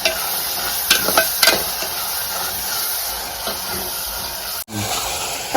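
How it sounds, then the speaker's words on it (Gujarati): Onions and tomatoes frying in a pan for a village-style stuffed eggplant curry: a steady close sizzle and hiss, with a few scraping stirs early on and a brief clatter near the end. "હવે આપણે નાખી દીધી ટમેટા હવે ટમેટા થોડાક પકવી લઈશ"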